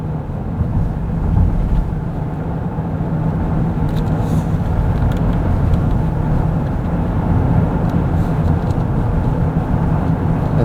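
A Lincoln Corsair SUV accelerates hard on a road. A steady, dense engine and road roar builds slightly over the run, with no talk.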